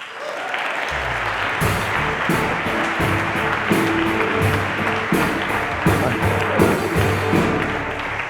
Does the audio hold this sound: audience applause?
yes